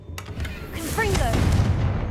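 A Confringo blasting spell goes off in Hogwarts Legacy: a sharp burst near the start, then a rumbling explosive roar with sparkling, whistling flourishes that hangs on under a low drone to the end.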